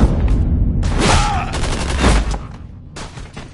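Heavy gunfire in the Tales from the Borderlands game, loud close bursts of rapid shots that rise and fall, briefly cut out, then resume, with some voice mixed in.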